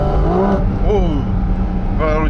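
Porsche GT4 RS engine with PDK gearbox and loud muffler in sports mode, revving in quick rising bursts with shifts between them, loud and close, with a voice talking over it.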